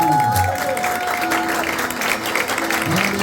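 Applause from the congregation at a church service, loud sustained clapping from a crowd with a voice speaking over it.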